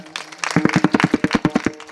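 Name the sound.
audience clapping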